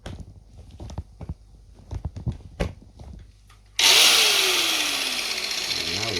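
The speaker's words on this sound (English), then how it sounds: "So this is the angle grinder." Angle grinder used in building a DIY aquarium filter bursts loudly into motion after a few seconds of light clicks and handling knocks, then holds a steady, close whirring roar that eases slightly as it runs.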